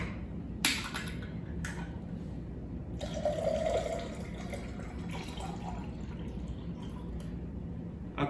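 Pineapple juice poured from a can for a Chartreuse Swamp Water cocktail, heard as a soft, steady liquid stream with a few louder splashy bursts against a low background hum.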